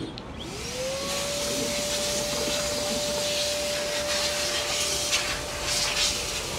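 An air blower used to clean a car starts up with a rising whine, then blows as a steady, loud rush of air with a sustained tone.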